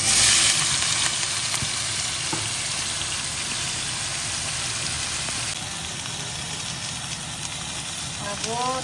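Sliced bitter gourd fries in a hot pan with a steady, close sizzle and crackle, briefly under talk.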